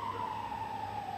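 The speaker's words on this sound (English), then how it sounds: "Let me just take a moment to acknowledge the siren" An emergency vehicle siren wails steadily at a distance outside, its tone slowly sliding lower over a faint background hum; no voices.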